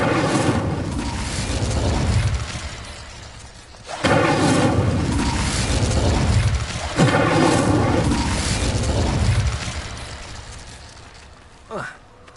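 Incendio fire spell cast in the Hogwarts Legacy video game, a series of roaring whooshing bursts of flame with deep rumbling booms, repeated about three times at steady intervals, loud and full, ending in a short sharp swish.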